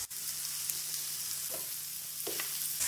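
Minced meat keema sizzles steadily in a pan as butter and yogurt go in, a constant bright frying hiss with a few soft stirring knocks, close and alone without talk.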